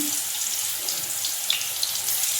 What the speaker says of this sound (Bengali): আর এই কড়াইতে বেগুন ভাজা করছি।